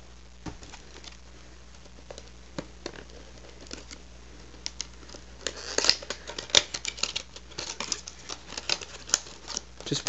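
A knife cuts tape on the box of a PS3 headset: soft, close scraping and rustling with small clicks, sparse at first and growing busier and louder toward the end, with no talking.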